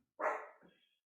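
A single puppy bark, close and fairly loud, with a short whimpering tail fading over about a second, heard alone without talk.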